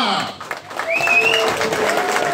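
A live event crowd at a DJ performance applauds and cheers in a brief, continuous wash of noise, with voices and a high whistle-like tone over it.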